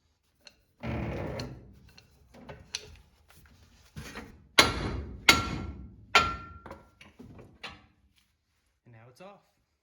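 Hammer striking a spindle on a 1988-98 Chevy C1500 truck to knock it loose, a series of sharp metallic knocks and thuds of varying strength spread across several seconds, with quiet gaps between.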